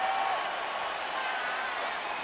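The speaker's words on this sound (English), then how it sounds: "The crowd is losing their mind" Crowd at a UFC fight roaring and applauding in a continuous loud wash, with speech mixed into the noise.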